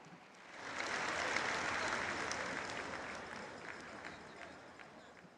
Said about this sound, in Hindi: एक बार जोरदार तालियां होनी चाहिए।